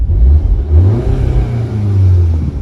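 Audi S1 engine starting and revving after a flywheel and reinforced clutch replacement, a close low rumble that blips up and settles into a throaty idle, with no speech over it.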